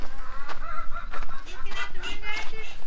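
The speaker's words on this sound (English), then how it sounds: "I hear him clucking at me." A chicken clucks repeatedly in short, choppy bursts close by, with a few louder squawks mixed in.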